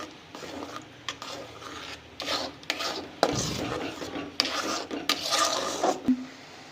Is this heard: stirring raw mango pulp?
yes